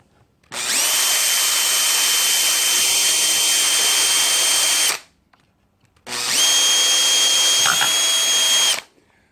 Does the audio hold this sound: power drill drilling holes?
yes